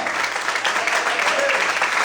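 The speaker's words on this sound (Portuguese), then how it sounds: "Você pode aplaudir o Senhor?" Continuous applause fills a church as the congregation claps together during a sermon, with a brief voice cutting through partway.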